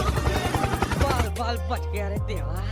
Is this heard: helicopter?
yes